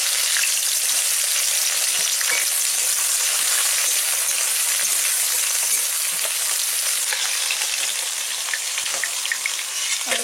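Dried red chillies, garam masala and chopped onion tempering in hot oil, a dense, loud, continuous crackling sizzle that holds steady close up for the whole stretch, with no talk.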